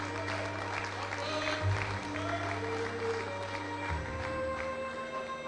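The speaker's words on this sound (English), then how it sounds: "clap for St. Gregory's College." Audience applauding St. Gregory's College at the Gregorian Exhibition, a steady even wash of clapping from a large hall crowd, slightly distant, with a low sustained hum beneath it.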